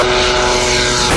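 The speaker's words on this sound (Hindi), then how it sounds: "पहला ड्रोन है अबाबेल 3 जो रनवे से टेक ऑफ करता है।" An Ababeel-3 military drone takes off from a runway with a loud, steady propeller engine drone and broad rushing noise, close and continuous throughout.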